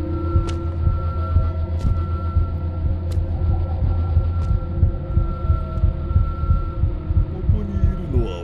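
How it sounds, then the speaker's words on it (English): Heavy, throbbing heartbeat in the horror video game The Karaoke, a loud, regular low thump repeating about twice a second over a steady hum, with a few faint higher clicks on top. "Why's my heart beating like that?"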